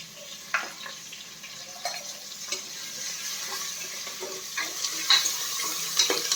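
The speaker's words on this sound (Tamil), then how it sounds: "கொஞ்சம் அப்படியே வாதங்கட்டும்" Green chillies and curry leaves sautéing in a pan with turmeric for chana sundal: a soft, steady sizzle close by, broken by light scrapes and taps of stirring.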